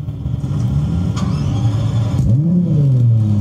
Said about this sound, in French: C'est un bruit de V10, c'est un moteur de Formule 1.